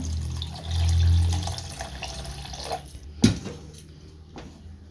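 Water pours into a pot of potatoes and peas for about a second with a low gushing sound, followed by a metallic clink and quieter kitchen noises.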